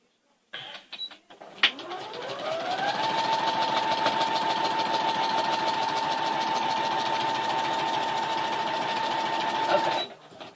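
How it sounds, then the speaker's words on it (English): A sewing machine stitches a log cabin rose quilt block, its motor winding up and then running in a fast, steady, close whir for several seconds before stopping. "I'm going to sew right here in this area here"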